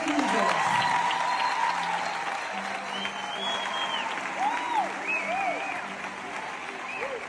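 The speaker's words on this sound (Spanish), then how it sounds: "Un fuerte aplauso para Gonzalo Quintos." A theatre audience applauds Gonzalo Quintos, a dense, sustained wash of clapping that gradually thins, with whoops and cheers rising over it and some voices mixed in.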